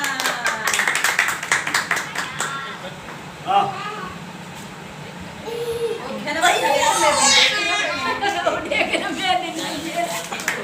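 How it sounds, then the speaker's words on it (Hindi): Children clapping their hands at home during ball play, a run of quick claps early on, then a pause and a burst of excited kids' chatter and adult voices over more clapping. "भाई आप तालियां बजाओ।"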